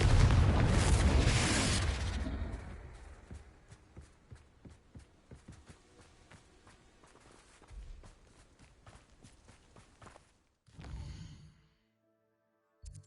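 A Confringo blast spell in Hogwarts Legacy goes off with a loud, booming burst at the start, then trails into scattered footsteps and softer impacts. A second short thump lands near the end.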